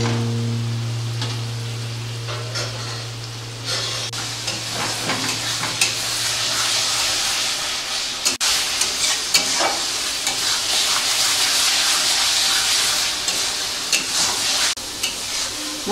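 Spice paste frying and being stirred with raw mutton fat in a pan, a steady loud sizzle with scraping stir strokes, a low hum early on, and no voice over it.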